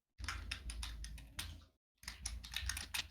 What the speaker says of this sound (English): Oh, you're typing it to me.